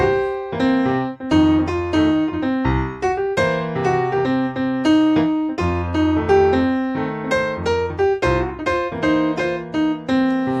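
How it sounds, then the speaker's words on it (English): A guitar plays a bluesy minor-scale line, single notes picked in a steady run with some held tones, clear and alone. "which is the minor blues scale"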